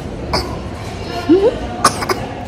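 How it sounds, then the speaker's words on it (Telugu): A child's few short coughs break through, one sharp bark-like cough near the middle and a quick pair later, with a brief voiced sound between them. "అదిగో చూడు, దగ్గుతూ కూడా తింటున్నావు నువ్వు ఐస్."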